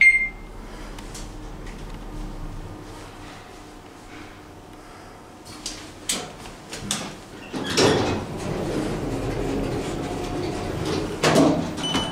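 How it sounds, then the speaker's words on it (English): Door of a Schindler 3300 machine-room-less traction elevator in a TownePlace Suites hotel slides slowly, a long, steady rumbling slide with rattles and clunks, after a quiet hum and a faint chime at the start. "Slow door."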